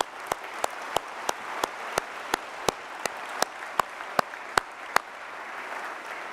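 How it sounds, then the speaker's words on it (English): A single person claps slowly and steadily at a pharmacy school commencement, about a dozen sharp, evenly spaced claps over a faint background hiss. "I want to clap for you."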